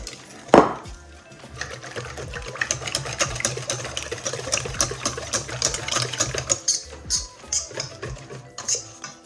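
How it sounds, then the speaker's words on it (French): Eggs whisked in a bowl for waffle batter, a fast, steady run of light clinks and scrapes that carries on without a break for about nine seconds, fairly close, with no talking. "J'ai battu mes œufs"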